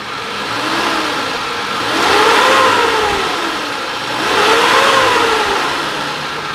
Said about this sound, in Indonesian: kalau dari kita geber pun ini suaranya pun masih cukup oke